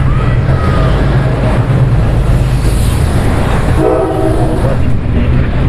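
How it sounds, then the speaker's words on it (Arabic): Passenger train bound for Cairo rolls past at close range in Abu Hammad, Sharqia, a loud continuous rumble with rail clatter and a brief horn-like tone, filling the whole stretch. "القطار ده متجه الى القاهرة"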